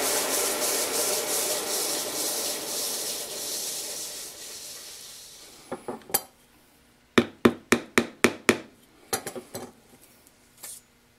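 Filing or sanding squares up the ends of a small cut piece of metal for a model antenna, first as a steady close rasping, then as a series of short, sharp scraping strokes with pauses between them.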